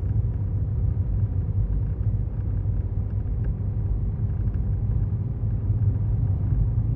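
A car climbs Highway 37 through the New Mexico mountains near Ruidoso, a steady low road rumble and engine drone heard from inside the vehicle that stays constant throughout.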